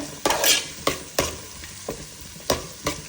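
Small shallots frying in a pan, a continuous sizzle broken by sharp, regular scrapes of a spoon stirring them about every half second, close and fairly loud with no voices.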